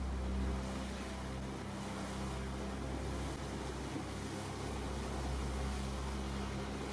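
Longtail boat motor chugging on a river, a steady low engine rumble mixed with water wash and wind, moderately loud and unbroken throughout with no talking.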